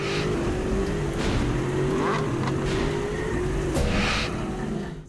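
A car engine revs in the mobile racing game Real Car Racing Simulator, a steady loud roar with rising and falling pitch sweeps over dense background noise, no talking.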